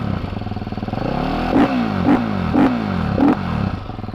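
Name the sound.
supermoto motorcycle engine revving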